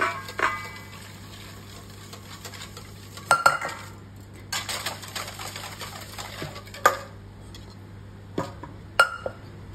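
Metal whisk clinking and scraping against a pan while stirring vanilla sauce, faint irregular taps and swishes over a low steady hum, with no one talking.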